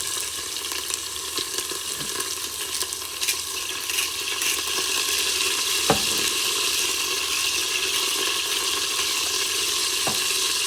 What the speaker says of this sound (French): je vais le faire dorer 2-3 minutes par face